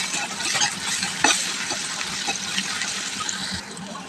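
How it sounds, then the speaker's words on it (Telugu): Green chillies with curry leaves and salt fry in a pan, a continuous loud hiss and sizzle with occasional stirring scrapes near the microphone. "కొంచెం బాగా ఫ్రై అవ్వాలి."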